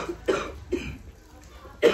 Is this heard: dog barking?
no